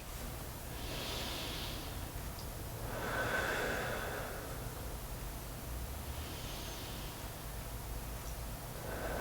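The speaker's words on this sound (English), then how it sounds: "So breathing deeply, breathing slowly, being aware of the speed, the depth, the sound of your breath" Slow, deep breaths during a gentle Pilates routine: a long airy inhale, then a fuller exhale a few seconds later, and another soft breath toward the end, steady and close over a quiet hiss.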